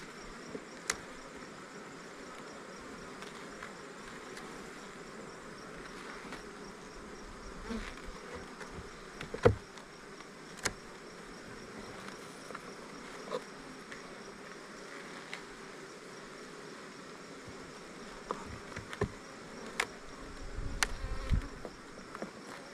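Honey bees hum steadily around an open hive while honey supers are pulled for extraction, with individual bees buzzing close by now and then and occasional knocks and clicks from hive work.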